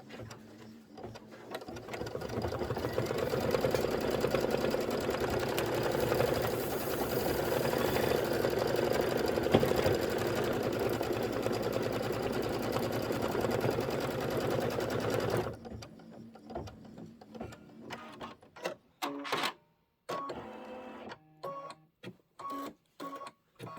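An embroidery machine stitches a placement stitch rapidly and steadily for about fifteen seconds, then stops, followed by quieter intermittent clicks and handling sounds.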